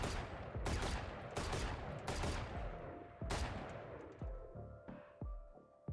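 Weapon fire in the shooter game Valorant: sharp shots in spaced pairs and singles, each with a decaying ring, fairly quiet overall.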